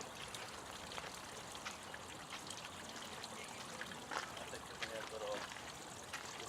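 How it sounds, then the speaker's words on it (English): Garden waterfall at the Chicago Botanic Garden, water trickling quickly down rocks: a soft, steady, continuous wash with faint voices in the background. "this waterfall was designed so that water quickly trickles down the rocks, creating a naturally relaxing sound"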